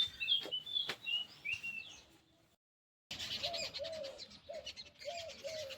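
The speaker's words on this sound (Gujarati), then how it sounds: "એકદમ મસ્ત પક્ષીઓને કિલ્લોલ પણ તમને સંભળાયો હશે." Birds call outdoors: high chirps and whistles at first, then after a brief silence a dove or pigeon coos in a repeated, rhythmic series against faint background twittering.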